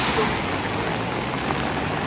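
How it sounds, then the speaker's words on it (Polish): Heavy rain pours steadily over a beach promenade in San Sebastián, a dense, even hiss of falling water without breaks and with no voices. "Deszcz strasznie pada"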